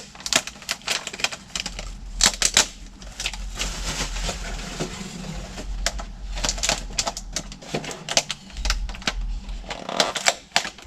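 Packaging is peeled and torn off mailed plants in close, irregular crinkling, rustling and sharp snapping bursts, with quieter gaps between handfuls.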